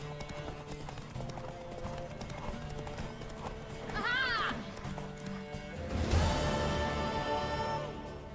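A horse gallops in Witcher 3, hooves clip-clopping in a fast rhythm under game music and voices, with a whinny and a louder burst of action midway.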